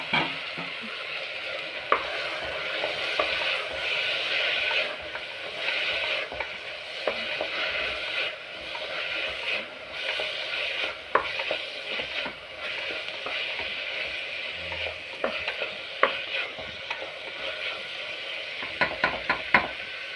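Tomatoes sizzle and fry in a pressure cooker for pasiparuppu sambar, with steady frying hiss and repeated scraping stir clatters, close and moderately loud, no talk.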